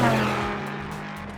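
LMP3 prototype race car lapping the Long Beach street circuit in a sim racing game, a steady droning engine note with strong low harmonics, loud and continuous, slowly easing in level with no talking.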